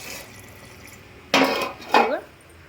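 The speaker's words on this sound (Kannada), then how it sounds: "ಇಲ್ಲಿ ನೀರು ತುಂಬ್ಕೊಳತ್ತೀನಿ ನೋಡ್ರಿ." Water splashes into a vessel in a home kitchen during preparation of a Katla fish fry, coming in two short, close bursts about half a second apart after a quiet start.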